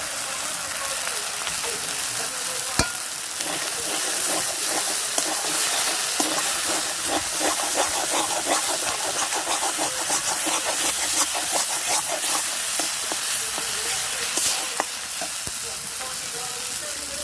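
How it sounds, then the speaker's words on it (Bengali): Spices sizzle loudly in a pan as water is poured in, producing a continuous close hiss and crackle with stirring scrapes and occasional sharp pops throughout; no voices. "একটু সময় কষিয়ে নিয়েছি, এবার জল দিয়ে দিচ্ছি।"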